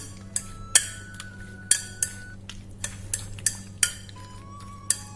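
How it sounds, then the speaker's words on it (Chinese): Chopsticks toss drained potato slices through a chili-oil dressing in a bowl, giving a steady run of sharp, close clinks and taps against the dish, roughly two or three per second, over a faint low hum. "下入控干水分的土豆片，然后用筷子搅拌均匀"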